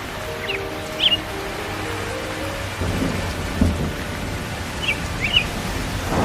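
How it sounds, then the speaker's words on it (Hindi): Heavy rain pours steadily in a cartoon sound effect, with low thunder rumbling beneath and a few chirps rising faintly above the hiss, loud and unbroken with no voices. "ये मोटी मोटी बूंदें ये मुझे उड़ने भी नहीं देंगी"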